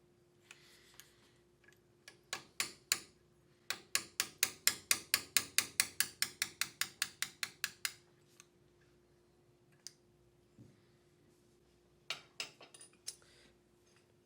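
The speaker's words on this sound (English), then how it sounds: "We're going to begin by using a hammer and a punch and drifting the factory rear sight out of the dovetail." Hammer and punch drifting the factory rear sight out of the dovetail on a Glock 43 pistol: a fast series of sharp metallic taps, about twenty in a steady rhythm, then a pause and a few more close, crisp strikes.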